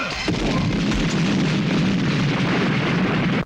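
A huge explosion from a Chinese live-action Dragon Ball movie: a loud, dense, roaring blast that holds steady for about three and a half seconds before cutting off abruptly.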